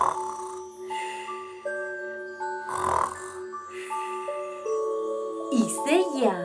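A person imitates snoring with a few rough, drawn-out snorting breaths over a soft tonal background.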